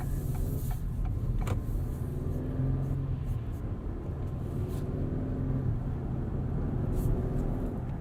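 Steady low road and engine hum from a 2022 Acura MDX with a 3.5-liter V6 and 10-speed transmission, cruising at an even level with a few faint clicks and ticks inside the cabin.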